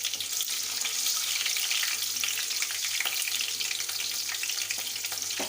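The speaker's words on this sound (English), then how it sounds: "when it will start crackling, then use khade masala, or khade masala and bay leaf also" Whole spices and bay leaf crackle in hot oil, a steady dense sizzle with scattered pops running throughout, loud and close with no talking.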